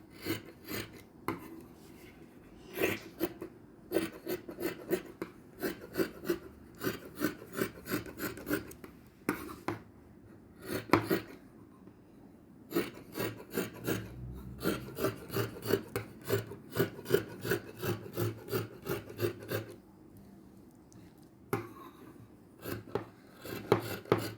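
Scissors cutting fabric for a gown give a long run of close, rhythmic crisp snips and rasping blade strokes with brief pauses and no talking.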